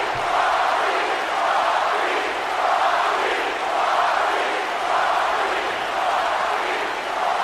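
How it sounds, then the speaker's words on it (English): A large arena crowd in the WWE 2K19 video game chants in a steady rhythmic swell, roughly one pulse per second, loud and continuous without a break. "They're chanting the name of their king."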